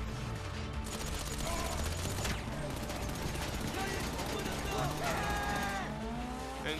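Gunfire and car noise from the game GTA 5 during a heist mission fill a dense, loud, continuous mix of engine roar, tire squeal and bursts of shots.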